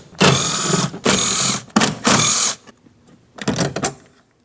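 Ratchet with a 10mm socket spinning off door panel mounting nuts on the rear door of a 2003-2007 Cadillac CTS, close and loud in four quick whirring bursts separated by short pauses.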